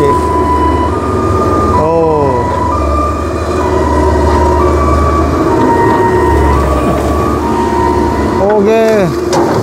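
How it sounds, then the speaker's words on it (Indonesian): An ambulance siren wails steadily in the distance over loud road and engine rumble, with a horn blaring twice and a brief exclamation from a voice. "Oh, ada suara ambulans guys tuh."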